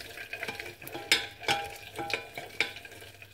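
A utensil stirs melted candle wax in a pot on low heat. It makes a run of irregular scraping and clinking strokes over a soft bubbling simmer, close by, with no voices.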